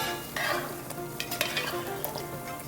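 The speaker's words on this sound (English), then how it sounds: "Now we're just gonna go ahead and stir it just a little bit." Jamaican curry chicken that has simmered for twenty minutes is stirred in a pot, a soft spoon scraping over steady sizzling and bubbling, close and moderate in level, with no talking.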